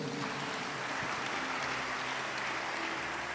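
A church congregation applauding in a sustained wash of clapping, dense and steady throughout without pause.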